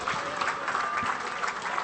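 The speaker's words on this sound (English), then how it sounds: "Can we get one more round of applause for all the winners this evening?" Applause at an awards medal night for the evening's winners, a brief, even roar of many hands clapping in a large room, heard alone.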